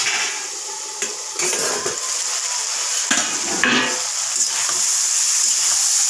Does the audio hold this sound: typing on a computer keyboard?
no